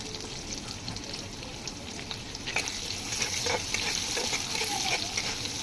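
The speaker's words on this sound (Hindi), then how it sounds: "पियाज टी लाल हवा पर्यंत भाजवा" Onions fry for a tadka in a pan already holding crackled cumin seeds, giving a soft, even sizzle with light stirring scrapes that rise slightly partway through.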